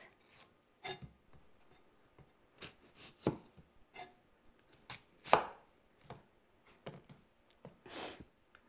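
Irregular knife chops on a cutting board as onions are cut for stuffed mushrooms, each stroke a sharp close knock, spaced unevenly with brief pauses between clusters and no talking.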